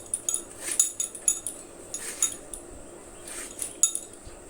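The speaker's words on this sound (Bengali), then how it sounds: "কুমড়োটা এভাবে ডুমো ডুমো করে কেটে নিব।" A knife chops ash gourd into cubes, giving a run of light, sharp taps and clicks against a cutting board at an uneven rhythm, close by and with no voices.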